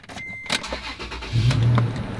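An older Toyota truck with over 100,000 miles cranks briefly and fires up right away, its engine catching and settling into a steady idle close by.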